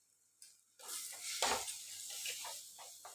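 Chili powder sautés in a pan for sardine curry, with a soft sizzle under a spoon's scraping, clinking strokes. The stirring is close but quiet.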